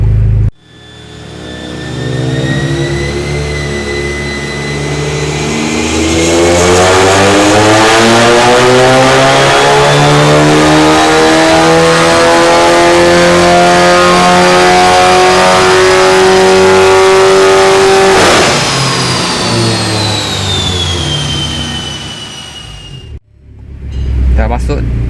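Volkswagen car engine revving hard on a dyno with traction control switched off, a loud sustained harmonic drone climbing steadily in pitch for about fifteen seconds, then dropping away abruptly and cutting to near silence.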